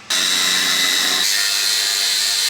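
A power tool cuts off worn suspension hangers on a trailer, starting abruptly as a loud, steady, high-pitched whine that holds close and continuous, with a slight shift in tone partway through.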